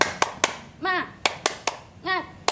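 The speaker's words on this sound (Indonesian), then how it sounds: "mari kita tepuk semangat dulu yuk" Young schoolchildren in a first-grade maths lesson do a rhythmic 'tepuk semangat' clapping chant: sharp claps in a patterned beat alternate with short sung vocal phrases, close and clear.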